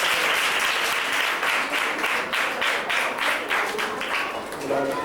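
Loud, lively clapping from the audience at a school prize-giving, many hands in a dense stream with a few sharper individual claps, and faint voices under it toward the end.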